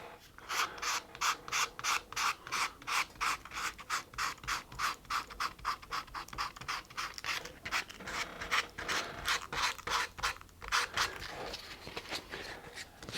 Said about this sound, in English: I'm going to run the sandpaper and my finger along the edge of the volute and the edge of the headstock